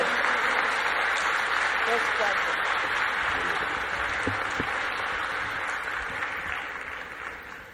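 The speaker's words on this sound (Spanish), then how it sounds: "Recibamos con un muy fuerte aplauso" An audience gives sustained, dense applause welcoming a speaker at a lecture on faith and reason, steady at first and slowly fading toward the end.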